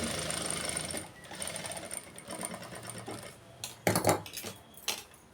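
Sewing machine stitching a blouse, its rapid steady whir running close and continuous before a few louder clattering bursts near the end.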